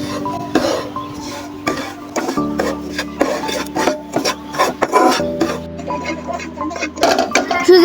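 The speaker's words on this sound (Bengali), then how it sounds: "তো এবার আমি সুজিটাকে ভেজে নেব।" Semolina frying in oil in a pan for a palm-fruit suji halwa, stirred with continuous close rasping scrapes and irregular clinks against the pan, with steady tonal sounds in the background.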